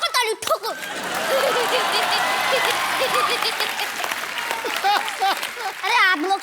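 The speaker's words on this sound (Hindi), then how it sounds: "ठोको ताली ठोको." Studio audience applauding and clapping on a Hindi comedy talk show, a steady wash of claps with chuckles and laughter mixed in, while voices talk over it near the start and end.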